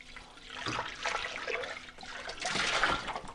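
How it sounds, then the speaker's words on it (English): Tap water splashes and trickles while soap suds are rinsed from a Thermomix TM6 mixing bowl, an uneven close-up swishing in two bursts with no talking. "now I'm just rinsing out the soap suds"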